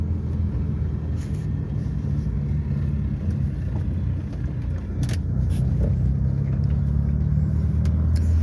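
A 1980 Ford Cortina 1.6 GL engine running at steady cruising revs, a loud continuous low rumble with road noise, no talk over it.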